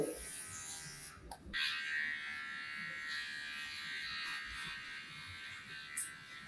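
A Xiaomi grooming kit electric hair clipper buzzes steadily at close range while cutting hair, with a brief drop and a sharp restart early on, then a continuous hum with a small bump near the end.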